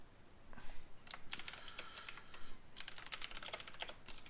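Fingers typing on a computer keyboard, close and fairly quiet, with irregular bursts of light key clicks and short pauses between them, with no voices.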